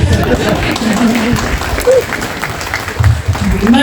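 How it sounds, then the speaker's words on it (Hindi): Applause rises and falls across a Hindi comedy-poetry stage show, with speech and crowd noise mixed in throughout. "हाँ देखो, आखिरी ताली बजी, मैं समझ गया वही है"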